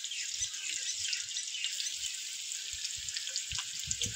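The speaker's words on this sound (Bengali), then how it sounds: "এটা একটু পেঁয়াজটা একটু লাল করে একটু ভেজে নেবো।" Onions sizzle steadily in hot oil with bay leaf and garlic, a continuous soft crackling hiss with small pops scattered through it, heard close and alone.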